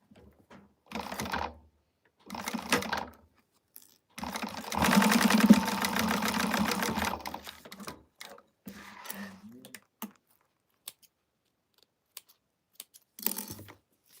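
A sewing machine stitches an Alice wristlet in short mechanical bursts, with one longer run in the middle and quiet pauses and faint clicks between them.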